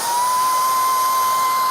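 A Kenmore cordless stick vacuum runs on its high power mode, a steady, loud, close motor whine with a sharp high-pitched tone held evenly and without pause.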